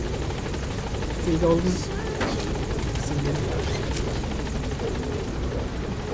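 Rotor thump of the Pequod helicopter in Metal Gear Solid V: The Phantom Pain, a steady whirring drone running throughout, with voices talking over it.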